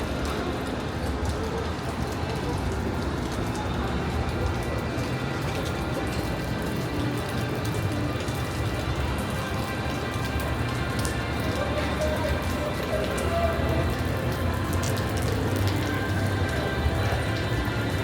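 Steady rain patters down on Fremont Street in Las Vegas, a dense continuous hiss of drops on pavement and surfaces with crowd murmur faintly beneath.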